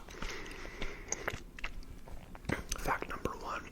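Close-up chewing of Warheads gum with moist clicks and occasional crunchy bites, faint and intimate, mixed with soft whispering.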